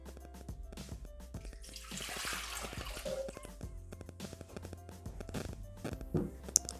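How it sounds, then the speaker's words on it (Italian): Tap water running and splashing into the bowl of a Thermomix TM6 for a Barese focaccia dough, a steady watery stream with small drips, close and fairly quiet with no talking. "Iniziamo la ricetta mettendo all'interno del boccale l'acqua"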